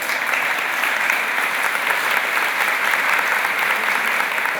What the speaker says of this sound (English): I think a round of applause.